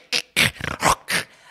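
A person imitates a dog, giving five short, rough barks and yips in quick succession, close to the listener with no other sound.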